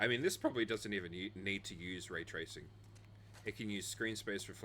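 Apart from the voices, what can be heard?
No everyday noise stands out behind the speech.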